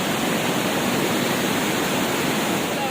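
Matikawol Falls in Mapanas, Northern Samar, a dense, constant roar of falling water filling the scene at close range, steady and unbroken with no voices.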